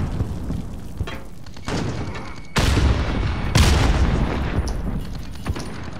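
Gunfire and explosive booms from an online shooter game, with sudden loud blasts at about 2.5 and 3.6 seconds over continuous crackling shots and rumble.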